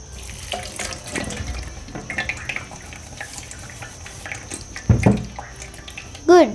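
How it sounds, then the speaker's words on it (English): Tap water runs into a sink while a sufuria pot is washed by hand, a steady close faucet stream with sloshing and clinks, a louder clatter near the end. "Now let's wash the sufuria."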